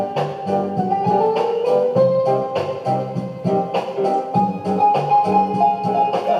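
A classic Studio One era reggae track plays steadily on a radio show, with a full band groove, a bass line and a melody running continuously at even loudness and no talking over it.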